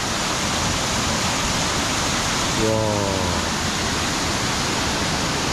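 A waterfall produces a steady, dense roar of rushing water that continues unbroken throughout, with a brief exclaiming voice partway through.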